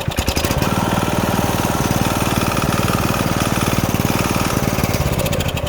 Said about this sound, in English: it should be idling right about there, but I let go and it idles up